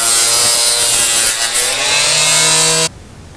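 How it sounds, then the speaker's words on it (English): A small Harbor Freight mini cutoff saw cuts with a loud, high-pitched whine for nearly three seconds. The pitch dips slightly under load before the cut stops abruptly into quiet. "this is my little Harbor Freight mini cutoff saw"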